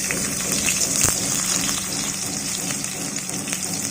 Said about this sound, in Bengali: এবার আমরা এর মধ্যে কেটে রাখা গোল গোল করে চিচিঙ্গাগুলো দিয়ে দিচ্ছি।